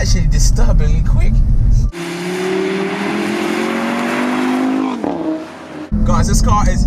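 An Audi RS3 quattro accelerating hard on a bumpy road, its engine rising in a strong, steady drone with a building pitch before easing off, bracketed by loud close-up speech from the driver.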